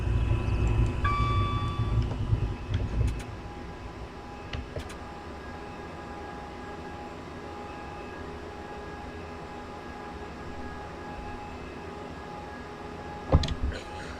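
A Gatwick Express electric train in Train Simulator 2019 runs between London Victoria and Gatwick Airport, giving a steady low rumble and hum with a few brief clicks and tonal beeps, close and continuous.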